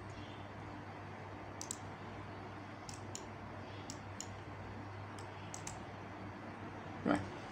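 A computer mouse clicking faintly several times during work in ETABS structural modeling software, scattered soft clicks over a steady background hum with one louder click near the end.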